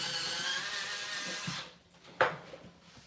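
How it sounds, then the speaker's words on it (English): USB electric pencil sharpener grinding a pencil, a high whirring buzz for about a second and a half that cuts off, followed by a sharp tap and faint clicks. "I have to find another USB free port to put my sharpener."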